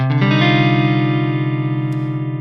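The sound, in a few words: guitar chord with open strings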